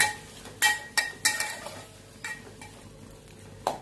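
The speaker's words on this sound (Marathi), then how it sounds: "ते आपण त्यामध्ये सगळं परतून घेऊया" Spices, including red chilli powder and garam masala, are stirred and sautéed with vegetables in a pan, a metal spoon clinking against the pan in scattered knocks over a soft sizzle.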